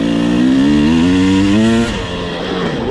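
A Husqvarna 300 two-stroke dirt bike lugs in third gear, its loud, close engine note pulling and climbing steadily in pitch before the throttle drops off and the revs fall away.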